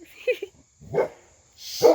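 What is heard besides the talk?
dog barking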